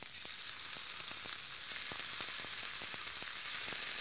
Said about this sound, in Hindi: ग्रिलिंग पैन गर्म हो चुका है, मैं ये चिकन के पीसेस इसके ऊपर डाल रही हूँ।